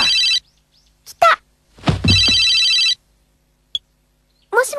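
An old-style telephone bell rings loudly in an anime scene, two long bursts of ringing separated by short sounds, with brief voices between rings.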